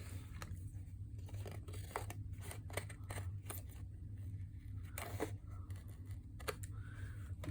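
Scissors snip through paper while trimming a vintage-style journal page, a series of sharp, separate cuts scattered across a steady low background hum, fairly quiet and close.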